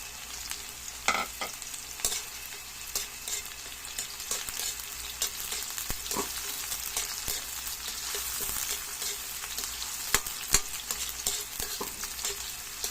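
Green chili sautéing with onion in a pan until brown: a steady, close frying sizzle broken by occasional sharp scrapes and clatters from stirring, with no talking.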